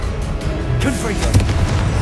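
A Confringo fire-blast spell explodes in the Hogwarts Legacy video game, a loud booming burst with a crackling tail over dense battle noise and other game effects.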